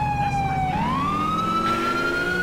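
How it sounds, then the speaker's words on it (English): A police siren wails from an unmarked NYPD Impala patrol car in Grand Theft Auto IV. One loud, steady electronic tone holds, then sweeps upward and keeps sounding, with no voices over it. "I don't want to use my siren too much"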